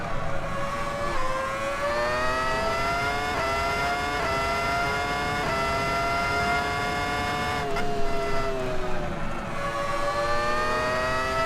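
A racing car in Assetto Corsa EVO drives a lap in cockpit view, its engine note holding a steady high whine that rises and falls through gear changes, loud and continuous throughout.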